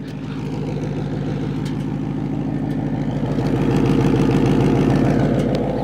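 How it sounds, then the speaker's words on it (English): A supercharged Ford Mustang, suspected of misfiring with a failing catalytic converter, idles steadily at close range, a continuous low rumble that swells slightly toward the end with no voices. "the car is idling fine"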